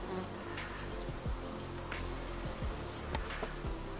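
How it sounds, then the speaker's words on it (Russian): Bees from a newly caught swarm buzz steadily and close by outdoors in a village yard, with individual insects droning past the listener against a dense humming backdrop. "Так, вон, видите пчелки?"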